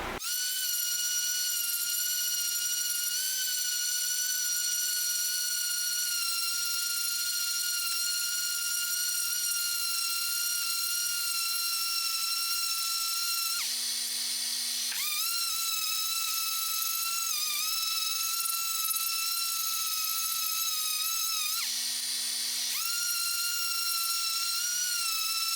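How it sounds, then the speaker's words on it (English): Hand or power sanding a custom Tele guitar body finish with 320 grit sandpaper: a steady, loud whining drone with strong tonal harmonics, held continuously with two brief dips in pitch, no talking. "Next I'm going to take some 320, then move up to 400, and then finish with 600 and sand off a little bit of this."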